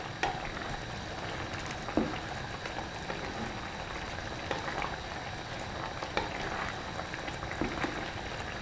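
Sambal ati ampela broth of chicken liver and gizzard simmering and reducing in a pot, a soft continuous bubbling with occasional small pops and clinks, fairly quiet and without speech.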